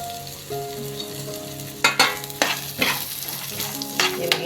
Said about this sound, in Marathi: आता ह्याच्यामध्ये मी हे बघा सफेद तीळ घेतले आहे मोठा चमचा एक धना घे धने घेतलेले टाके एक चमचा आणि जिरा अर्धा चमचा घेतलेला आहे हे पण मी याच्यामध्ये परतून घेते